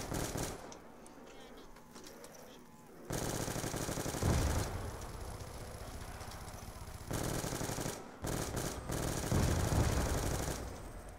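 Rapid automatic gunfire from a shooting video game rattles on loudly and almost without pause, in long bursts separated by brief gaps, with faint voices now and then underneath.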